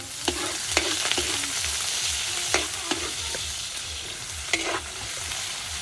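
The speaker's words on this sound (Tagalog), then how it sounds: "Yan, ginisang giant squid." A whole giant squid sautéing in a pan, a steady hiss of frying with occasional spatula scrapes and clinks against the pan, close and continuous.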